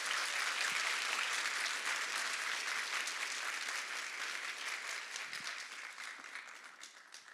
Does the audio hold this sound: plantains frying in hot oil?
no